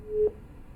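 A single short telephone busy tone beeps after a caller's line drops, faint and thin over a quiet background.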